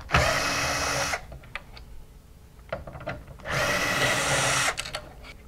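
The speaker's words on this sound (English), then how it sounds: "First step we're going to do is remove the two screws." A power drill removes two screws from a WF-8955 main board assembly, running in two loud sustained bursts of about a second each, separated by quiet handling and small clicks.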